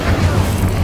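A fiery Incendio spell from Hogwarts Legacy cast mid-battle in a dungeon room: a short, dense roaring burst with a low rumbling boom, steady and loud throughout, with no clear separate hits.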